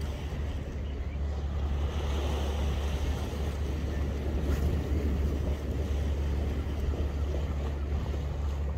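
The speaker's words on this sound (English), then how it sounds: "the waves are starting to come over" Sea waves wash against coastal rocks as the tide comes in, a continuous surging roar with heavy wind buffeting the microphone throughout.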